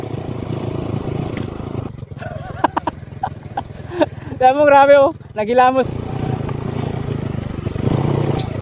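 A motorcycle rolls downhill on a rough road while its brakes are failing, its low engine rumble running steadily beneath excited voices that talk and shout throughout.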